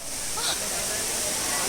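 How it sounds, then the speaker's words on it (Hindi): Waterfall at Haridwar, a loud, constant rushing roar of falling water filling the whole moment, with a crowd's murmur faintly blended in. "फाइनली हम पहुंच गए अपनी मंजिल पे, जहां हमें आना था झरने पे"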